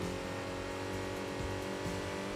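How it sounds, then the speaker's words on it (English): A microcar in Enthusia Professional Racing drones along with a steady, buzzy metallic exhaust note and some intake noise, constant and unbroken, with no voices. "They get even more kind of a metallic exhaust sound."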